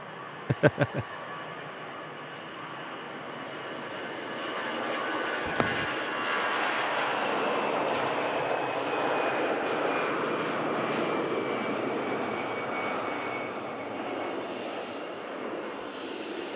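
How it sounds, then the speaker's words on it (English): Lauda Airbus A320 departing and a Logan Air ATR arriving on the south runway at Manchester Airport: a steady distant jet engine roar builds and holds, with a few sharp clicks and bumps nearby early on. "Lauda A320 heading out to Vienna as Logan Air ATR arrives on the south runway."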